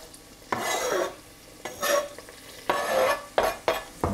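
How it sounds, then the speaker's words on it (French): Thinly sliced leek whites tossed into a hot pan, sizzling and frying in several bursts with utensil stirring and scraping, close and clear with no talking. "On récupère le poireau qu'on met tout de suite"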